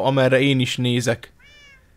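A short, high cat meow from the Minecraft Sky Factory 3 game sounds faintly right after a person finishes talking.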